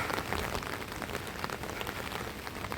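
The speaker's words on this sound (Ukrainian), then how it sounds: "Дощ поливає во всю Івановську." Heavy rain pouring down on a street, a dense steady hiss of drops hitting surfaces, fairly quiet and continuous with no talk.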